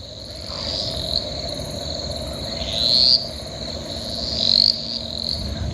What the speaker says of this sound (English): That is cane toad calling, we believe.